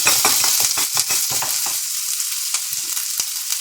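Onion sizzles in a pan with oil and fried cinnamon while a Kannada avarekalu saaru is being cooked, a close crackling hiss with quick stirring scrapes early on, then a steadier, softer sizzle.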